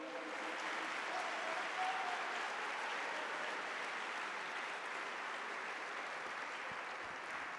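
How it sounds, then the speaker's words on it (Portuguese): A church congregation applauds during a worship service, a soft, even wash of many hands clapping heard from a distance that continues steadily without pause. "Você pode aplaudir o nome do Senhor, aleluia."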